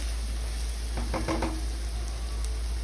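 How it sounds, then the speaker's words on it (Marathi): A spoon stirs and scrapes through fenugreek greens frying in a pan as garam masala powder is mixed in, a few soft clinks against a steady sizzling hiss, with no voices. "अर्धा चमचा गरम मसाला पावडर छान असं मिक्स करून घ्यायचं आहे"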